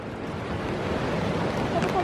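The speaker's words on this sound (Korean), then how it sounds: "파도가 세네요 생각보다" Strong ocean waves break and wash along the rocky Naksansa coast, a loud continuous roar of surf with wind buffeting the microphone, close and steady throughout.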